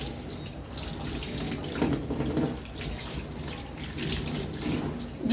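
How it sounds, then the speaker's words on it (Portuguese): Tap water runs steadily over a vinyl LP during a rinse after washing, a continuous splashing flow with no voices. "Beleza, deu essa primeira lavada, nós vamos enxaguar. Eu gosto de usar um pouco de excesso de água."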